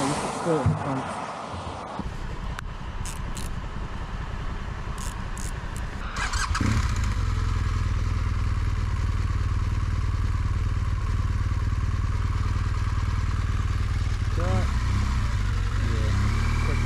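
Motorcycle engine running steadily while riding along a road on a touring trip, a continuous close drone that starts partway in after a quieter, rougher stretch, with wind noise over it.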